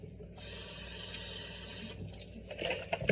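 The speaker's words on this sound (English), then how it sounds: "You want to swish it around. Let's swish your knife." Cold water sloshing in a sink as a knife is swished around while cleaning a whole chicken; a steady wet rush runs for a couple of seconds, then breaks into louder splashes and clatters near the end.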